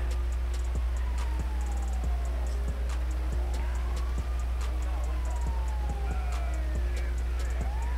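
In the GTA 5 LSPDFR police roleplay game, an ambulance siren wails in repeated rising and falling sweeps over a constant low engine hum, with faint ticking clicks throughout.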